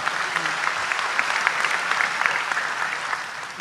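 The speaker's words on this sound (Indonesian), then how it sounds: "Tepuk tangan untuk beliau" Sustained audience applause, many hands clapping steadily at even volume for several seconds, with no one speaking over it.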